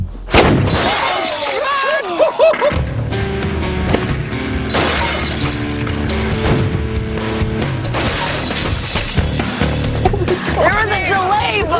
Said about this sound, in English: the pineapple hits the glass at the equivalent velocity of a .45 caliber bullet